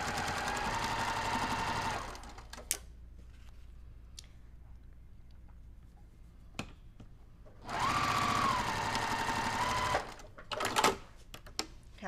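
A sewing machine piecing quilt blocks whirs in two steady close runs of about two seconds each, separated by quiet gaps with small clicks and handling noises.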